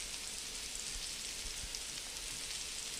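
Minced garlic hitting a frying pan of sliced mushrooms, giving a soft, steady sizzle and crackle that holds evenly throughout, fairly quiet and without voices.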